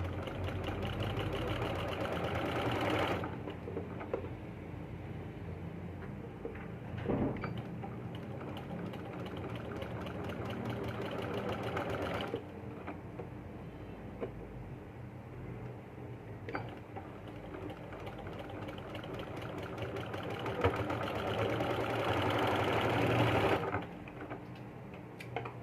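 A sewing machine stitches a baby yoke frock in steady, rapid runs, close and clear, pausing briefly between runs, with no talking.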